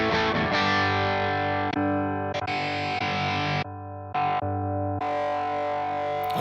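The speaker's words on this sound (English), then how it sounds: "Oh, these are the overdrives." Electric guitar played through overdrive amp models on an IK Multimedia ToneX ONE pedal, loud sustained distorted chords ringing alone with brief cuts and restarts between strums.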